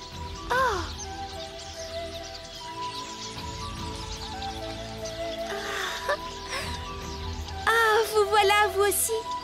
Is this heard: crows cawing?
yes